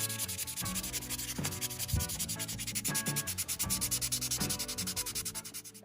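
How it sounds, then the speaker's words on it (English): Resin and metal model car parts for a McLaren 720S kit are sanded by hand with 400-grit sandpaper, producing close, steady rhythmic rubbing strokes with no talking. "I will sand every single part with a 400 grit in order to get it ready for the primer"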